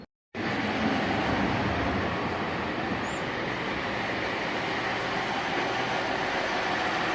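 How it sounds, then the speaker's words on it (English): Steady broadband rumble of a moving train interior in Germany, bound for Ulm from Memmingen, constant and close, starting abruptly after a moment of silence. "Let's hop on the train to Ulm."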